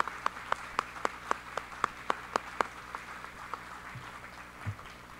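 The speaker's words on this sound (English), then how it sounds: "Let's give them one more round of applause." Audience applause for award winners at a school address, with sharp, evenly spaced hand claps that stand out over a faint hall background before fading to scattered sounds.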